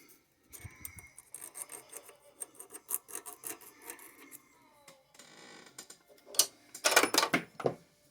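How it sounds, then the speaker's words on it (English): A lathe spindle mount on a Vevor 7x14 lathe being deburred by hand before a 4-jaw chuck is seated, producing irregular close scraping and filing strokes that build to a louder burst of rasping toward the end. "So a little cleanup and deburring is not a bad idea."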